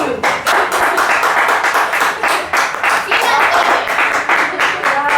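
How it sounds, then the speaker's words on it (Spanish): An audience claps loudly and steadily at the close of a storytelling talk, a dense run of close, sharp handclaps with a few voices mixed in. "Muchas aplausos"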